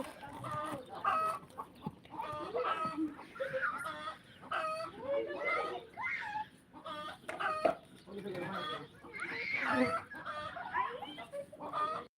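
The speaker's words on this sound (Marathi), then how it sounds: "कोंबड्यांची ओरडणे हे वैशिष्ट्य आहे" A crowd of chickens clucks and squawks continuously, with rooster-like crowing calls rising through the noisy, busy coop; voices talk underneath.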